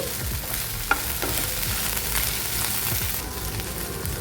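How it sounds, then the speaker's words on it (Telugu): Okra pieces frying in a pan, stirred with a utensil for a Telugu bendakaya ulli karam dish, giving a steady oily sizzle with scraping strokes and one sharp clink, fairly close and without talk. "ఇప్పుడు బెండకాయ ముక్కల్ని ఒకసారి కలుపుకుందామండి"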